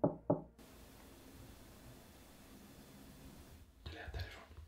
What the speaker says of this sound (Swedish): Efter du knackade så kom det knack där bortifrån.